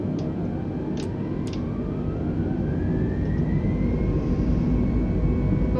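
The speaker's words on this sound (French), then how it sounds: "Une fois que tout ça c'est bon, vous pouvez mettre les gaz." The engines of an Airbus A320neo spool up for takeoff in the video game Microsoft Flight Simulator 2020. A loud, steady jet roar carries a slowly rising whine, with a few faint clicks near the start.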